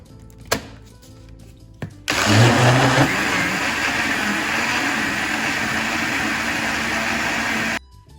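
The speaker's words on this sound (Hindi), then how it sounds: "हमने अंडे जो है और चीनी सारा कुछ जो था वो मिक्स करके ब्लेंडर में इसको ब्लेंड कर लिया है" An electric blender whirs steadily as it blends eggs and sugar for besan barfi, a loud continuous motor drone starting abruptly after a few light clicks and running for several seconds before cutting off.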